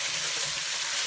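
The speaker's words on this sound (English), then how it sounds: "Just sprinkle that, and then stir it around," Browned minced meat for a quick bolognese sizzles steadily up close in a hot pan as a spice mix is stirred through, a continuous dense frying hiss with no talking.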